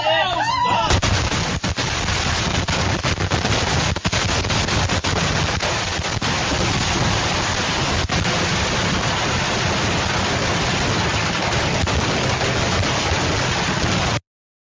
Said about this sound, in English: This is why I don't mess with fireworks.